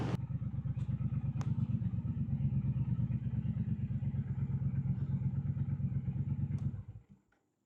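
A motorcycle runs steadily on a test ride, its engine giving a continuous, even mid-pitched drone close to the rider with light wind rush, then the sound cuts off quickly near the end.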